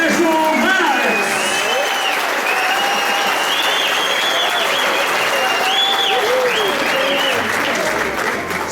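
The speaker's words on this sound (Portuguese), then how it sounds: "Senhoras e senhores, uma salva de palmas ao Tenente Coronel Sérgio Marques." An audience applauds a military police lieutenant colonel at the close of a lecture on urban mobility legislation. The clapping is full, dense and continuous, with voices mixed in throughout.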